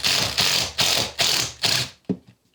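A long screw is turned through a wall plug into plasterboard over masonry, giving four loud, rhythmic ratcheting clicks-and-grinds close up, then a short final creak; nobody speaks.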